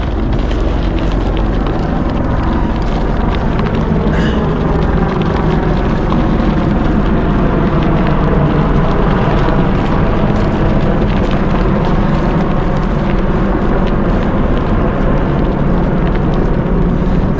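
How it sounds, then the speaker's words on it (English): A large military helicopter passing overhead in a wooded park near an airport, a loud, steady low rumble with broadband roar that fills the whole stretch without letting up. "It's a helicopter going overhead."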